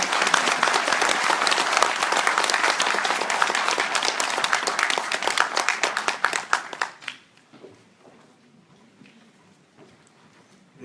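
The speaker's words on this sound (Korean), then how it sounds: "큰 박수로 문재인 전 대표님" Dense audience applause greets a keynote speaker at a political policy forum in Korea, loud and continuous for about seven seconds before quickly thinning to scattered claps and room quiet.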